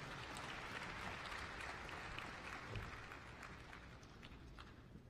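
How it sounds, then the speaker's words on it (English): An audience applauds at a university chancellor's installation ceremony, a sustained, roomy clatter of many hands clapping at an even level throughout. "clapping again"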